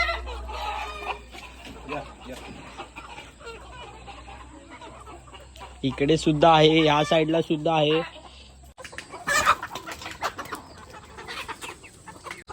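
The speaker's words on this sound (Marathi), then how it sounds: "हे बघा आतमध्ये सगळ्या कोंबड्याच आहेत गावठी कोंबडी" Native free-range village chickens cluck close by, with a loud burst of squawking midway, while someone talks over the flock.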